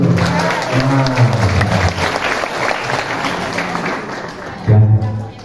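Sustained audience applause from a crowd at an Indonesian talk on honey, steady broadband clapping with a brief louder swell near the end and faint voices mixed in.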